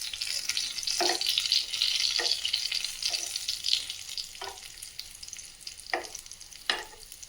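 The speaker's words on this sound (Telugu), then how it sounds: "అన్నిటినీ ఇలా ఒకసారి తిరిగేసేసుకొని ఫ్రై చేసేసుకుంటున్నాను." Stuffed bitter gourds fry in a pan, a continuous bright sizzle with periodic scraping and turning knocks of a utensil, moderately quiet and close, no speech.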